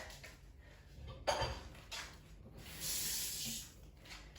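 A bowl, spoon and jug handled in a kitchen and put away into a cupboard, with quiet clinks and knocks of crockery, one sharper clatter, then soft rubbing and shuffling.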